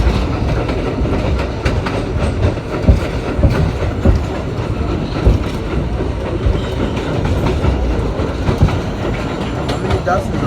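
An R32 Q subway train runs loudly and continuously in the New York City subway, its wheels clattering over rail joints in a steady rumble, with faint voices mixed in.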